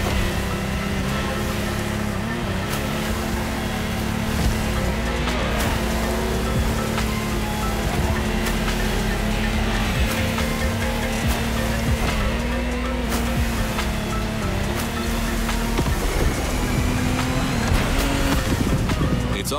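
A steady, loud offshore speedboat engine roar from The Crew Motorfest drones on with rushing water and spray beneath it, sustained and unbroken throughout, on turbulent sea.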